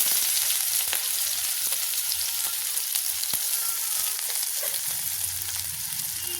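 Onions fry loudly in oil in a wok, a dense continuous sizzle with scattered pops and crackles throughout, no voices.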